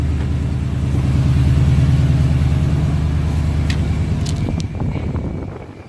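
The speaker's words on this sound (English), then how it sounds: "I got the truck pulled out, sitting here running, warming up a little bit" A 2012 Toyota Tundra Double Cab TRD Sport pickup with over 600 horsepower idles steadily while warming up, a low, even rumble fading a little near the end as faint clicks and rattles appear.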